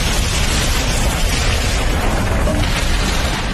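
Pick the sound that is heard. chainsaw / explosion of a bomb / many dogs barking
explosion of a bomb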